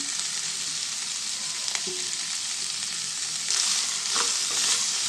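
Coconut pieces fry with a little turmeric in a pan for coconut chutney, giving a continuous soft sizzle with occasional stirring scrapes and no talk.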